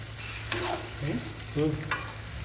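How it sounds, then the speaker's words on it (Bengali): Marinated chicken sizzles in hot oil left over from frying onions, with a soft steady frying hiss and a few distinct scrapes and clacks of a spatula stirring the pan, close up. "এই তেলে এবার মাংসটাকে খুব ভালোভাবে কষিয়ে নেব"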